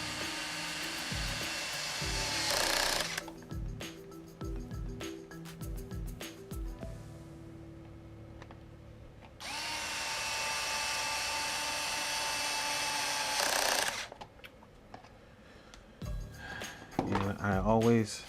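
A powered driver bit spinning screws in during reassembly of an RC car, two long steady whirring bursts separated by short clicks and handling noises, close and clear.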